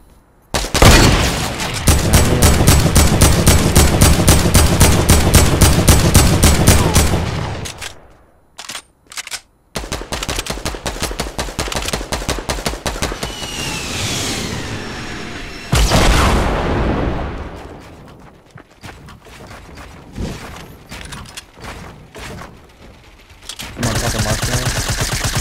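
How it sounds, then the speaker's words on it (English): Explosive rocket launcher blasts and heavy gunfire in the shooter game Fortnite, loud and near, coming in long sustained bursts broken by short gaps, with sharp booms in between. "Shooting a rocket over at him."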